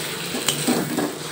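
Milk poured a little at a time into fish malai curry masala sizzling in a pan, a steady frying hiss with soft stirring and clinks of utensil against pan, close and continuous.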